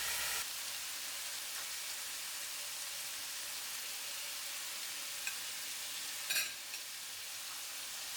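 Chicken and paprika frying in a pan while being stirred: a steady close sizzle, even and hissing like light rain, with a brief scrape-and-clatter of stirring near the end and no voices.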